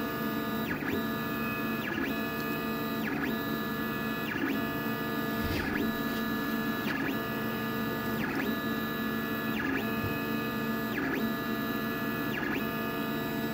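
A 3D printer runs continuously with a steady motor whir, joined by a repeating warbling electronic tone pattern roughly every two seconds, close and moderately loud.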